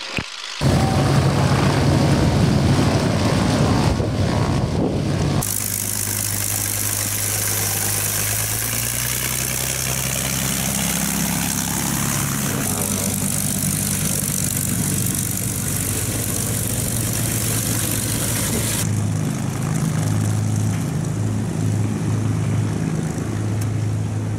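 A Rolls-Royce Merlin piston-engined aircraft taxis and maneuvers on an airport apron, its engine droning steadily and loudly at close range, shifting pitch as power changes while it moves around.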